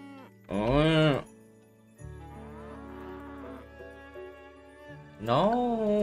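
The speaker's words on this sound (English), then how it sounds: "Look at that, it's so crowded with some cows." Cows moo in the farming game Coral Island, with two loud, drawn-out bellows at the start and end of the clip and softer harmonic tones from the game playing between them.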